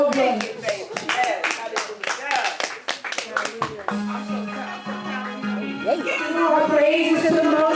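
Audience clapping at a live-streamed gathering, loud sharp claps in quick bursts with voices over them, then the clapping stops and talk and a sustained tone carry on.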